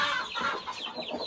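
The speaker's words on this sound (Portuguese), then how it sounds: "eu vou mostrar pra vocês esse galo branco aqui, caipira" A white free-range rooster on a farm clucks close by, a short run of soft nasal clucks and throaty calls with no talk over it.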